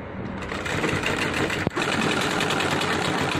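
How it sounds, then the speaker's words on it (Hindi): A sewing machine stitches fabric for a Nehru cap, a steady close whirring hum running throughout with one brief click partway through. "ये देखिए हमने सिलाई इसका ऊपर का पूरा कर लिया"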